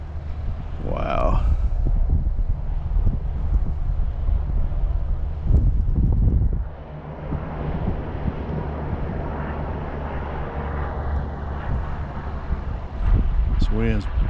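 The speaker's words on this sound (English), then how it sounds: "This wind's pushing like crazy." Strong wind roars steadily and loudly past the microphone during a speed run of an Arrma Kraton RC car, a constant rushing buffet that briefly drops, with a voice speaking over it.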